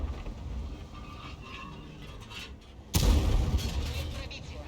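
Tank cannon fire in World of Tanks, with an Object 430 in battle: a single loud, heavy blast lands partway through over a rumbling game background.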